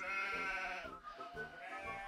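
A sheep bleats in a long, wavering, nasal call, close and clear, with no talk over it.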